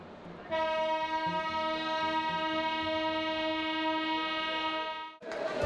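The 12328 Upasana Express (Haridwar to Howrah) sounds a long, steady, loud horn blast at a station that holds for several seconds and then cuts off abruptly, with no voices.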